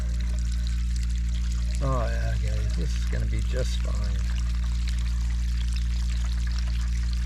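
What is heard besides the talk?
coolant-colored water pouring out of a Bronco radiator's lower hose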